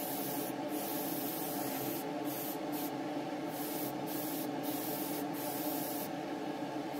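Wet coat of 2K clear sprayed onto a 1:24 Revell Shelby Mustang GT350H model car, a close continuous airy hiss broken by several short pauses between passes, with no speech.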